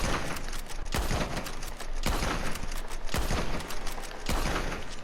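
Bolt-action rifle shots in Red Dead Redemption 2, four loud, sharp reports spaced roughly a second apart at a slow, steady pace, each with a brief ringing tail.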